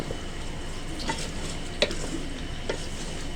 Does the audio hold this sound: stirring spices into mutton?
yes